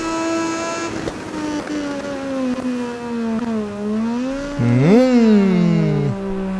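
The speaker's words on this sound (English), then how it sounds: "Sound great, don't they, these bikes?" Moto2 racing motorbikes in the video game MotoGP20 scream past with high-pitched engine whine, revs rising and falling through gear changes, then a loud pass-by swoop near the end.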